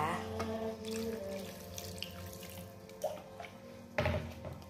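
Water is poured into a pan of wilted stir-fried vegetables with garlic, a steady close trickle and splash that ends with a sudden sizzling hiss near the end, under quiet background.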